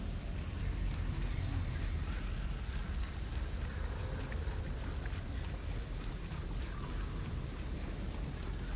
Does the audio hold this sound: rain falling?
yes